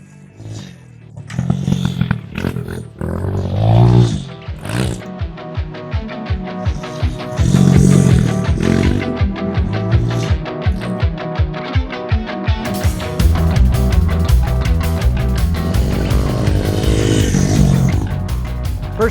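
Honda CRF 100 dirt bike riding: a small engine revs and buzzes steadily for the whole stretch, rising and falling with throttle, along with clatter and rattling bumps, close and loud, with no talk.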